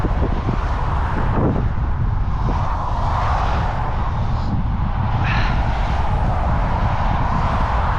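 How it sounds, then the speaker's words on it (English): Steady wind rushing against a cyclist riding a single-speed bike on the Legacy Trail between Canmore and Banff, a loud continuous roar of buffeting across the microphone with no letup. "The wind is still in my face."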